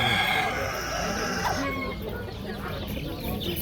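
A rooster crows loudly amid clucking chickens and busy background noise at the Jomashuy poultry bazaar, the call fading after a couple of seconds.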